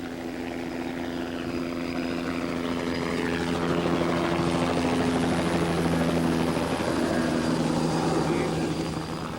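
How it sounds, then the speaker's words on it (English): A news helicopter's rotor thumps and engine drone hold steady overhead at a building demolition in Salt Lake City, 1983, swelling slightly louder in the middle before easing off. "Channel 2 chopper that keeps flying over us here, drowns us out"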